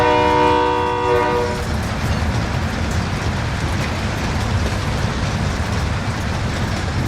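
Train in the video game Call of Duty: Modern Warfare: a loud horn blast with stacked harmonic tones opens, then cuts away to a steady, heavy rumbling roar of rolling railcars that runs to the end.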